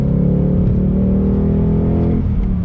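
A 2020 Ford Mustang GT's engine pulls on throttle, a loud, steady low rumble of acceleration that holds and then dips near the end, heard from close by with no talk.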